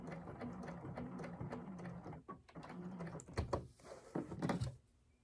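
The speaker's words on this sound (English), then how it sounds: "I'm going to stitch a little bit more on this side and back tack." A sewing machine stitches a jacket seam in batik canvas, running in short, uneven bursts of rapid needle chatter with brief pauses for the back tack, then falls quiet at the end.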